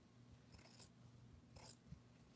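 Two quiet, crisp snips of scissors cutting a strip of fabric, spaced about a second apart against a faint background hum.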